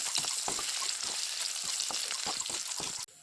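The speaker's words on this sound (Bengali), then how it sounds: "কড়াইতে তেল গরম হয়ে গেছে, পনির ভেজে নেব।" Paneer cubes sizzle and crackle steadily in hot oil in a wok, a close, continuous frying hiss with small pops, cut off abruptly at the end.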